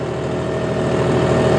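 A John Deere 5310 tractor engine runs at a steady mid-range speed, a loud, even diesel drone with a constant low rhythmic thrum and no talk over it.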